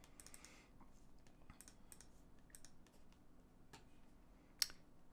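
Computer keys clatter in quick, irregular bursts of light clicks, with one sharper, louder tap near the end, all close and otherwise quiet.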